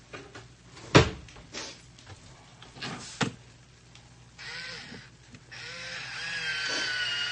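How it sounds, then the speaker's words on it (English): A simple can opener is fitted to an organic tomato sauce can, starting with a few loud knocks and handling thumps, then a sustained grinding crank noise that builds near the end, close by and without talk. "I'm going to get my thing and I'm going to open it up."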